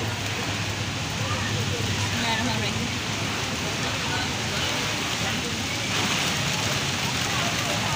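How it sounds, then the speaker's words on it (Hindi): Steady rain falling with a strong cold wind, a dense, continuous hiss and rush close by that stays even throughout, with no pauses. "कितनी ठंडी हवा चल रही है तेज़ वाली और बारिश भी हो रही है साथ"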